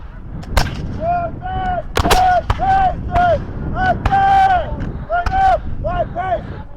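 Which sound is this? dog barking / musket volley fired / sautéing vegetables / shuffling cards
musket volley fired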